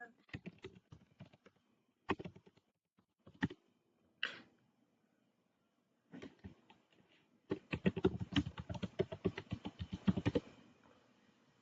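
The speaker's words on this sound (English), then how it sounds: "you will write or you will type your password" Keys on a computer keyboard are pressed while a password is entered: a few isolated taps separated by pauses, then a dense, rapid run of keystrokes near the end, close and clear in a quiet room.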